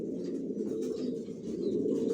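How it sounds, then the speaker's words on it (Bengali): Johnson-line long-distance racing pigeons cooing in a loft, a continuous low murmuring coo from several birds, fairly faint and steady with no talk. "আমি আমার লফটে সব লংয়ের কবুতর পালি"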